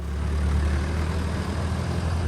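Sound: John Deere 6600 tractor driving off

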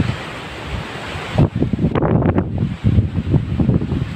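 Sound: strong wind blowing near Atal Setu bridge

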